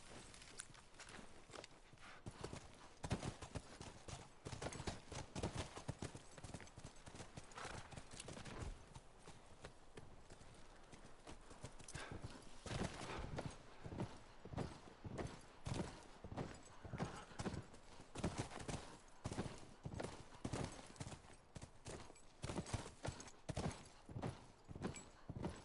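Horses' hooves clip-clop steadily in the video game The Last of Us, a continuous rhythmic run of close, sharp hoof strikes on the ground lasting throughout, with no talk.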